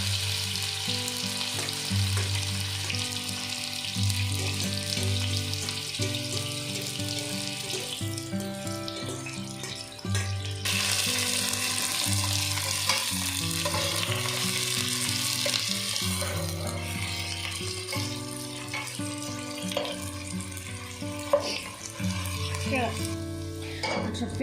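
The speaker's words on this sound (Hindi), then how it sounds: "ऑयल गर्म हो गया है, अब हम इसमें प्याज डाल देते हैं।" Onions fry in hot oil for beef biryani, a steady close sizzle that surges louder midway, with occasional stirring clicks and a faint background tone throughout.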